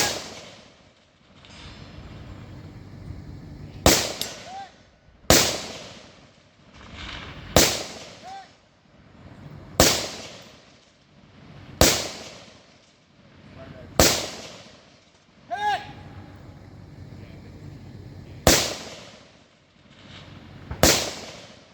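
Rifle shots ring out at a Woodland Brutality 2024 shooting competition, about ten sharp, loud cracks spaced roughly two seconds apart, each trailing off into a brief echo against a quiet outdoor background.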